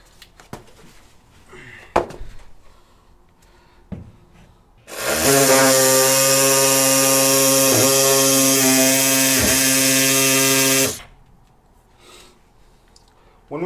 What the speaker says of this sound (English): Using our Sawzall.